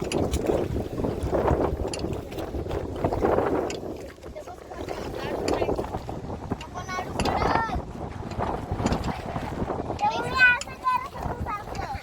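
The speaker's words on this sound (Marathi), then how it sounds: "मस्त वारा सुटत आहे" Wind gusts across the microphone during a river boat ride near a temple, a steady rushing roar with people and children talking over it throughout.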